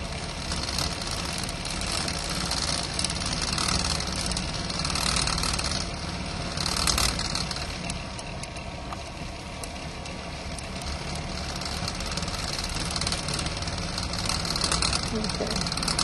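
A spinning wheel whirs steadily as silk is spun fast, with a continuous mechanical hum and faint rhythmic clatter, close and fairly loud throughout, under a low speaking voice.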